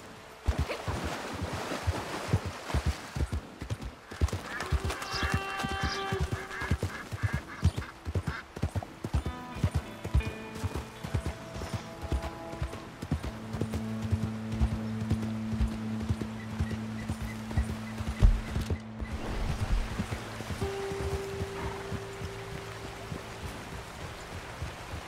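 Steady clip-clop of an American Paint horse's hooves in Red Dead Online, an even rhythmic trot near and clear over game ambience with flowing water, a brief neigh and occasional musical tones.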